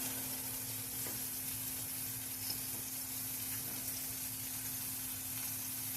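Steady, even sizzle of breakfast food frying in a pan at home, a constant hiss with a low hum underneath and no talking.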